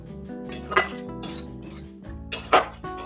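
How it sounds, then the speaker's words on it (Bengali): Ground coriander, cumin and black pepper sauté in oil in a pan, heard mostly as a spoon scraping and clinking against the metal in a few distinct bursts over a faint background. No one speaks. "সব গুঁড়ো মশলাগুলো তেলে ভালোভাবে কষিয়ে নেব।"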